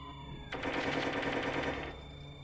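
A rapid burst of automatic gunfire in Watch Dogs 2, lasting about a second and a half, fairly loud over quieter game ambience.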